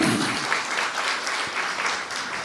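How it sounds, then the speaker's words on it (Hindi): An audience at a spiritual gathering applauds loudly for Didi, a dense, continuous roar of many hands clapping together at steady volume throughout. "दीदी के लिए एक बार तालियां बजाओ जोरदार"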